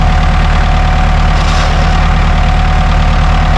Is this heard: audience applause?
no